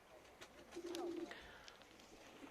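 A young pigeon gives a brief, faint coo near dusk, a single low rolling call against quiet outdoor background noise.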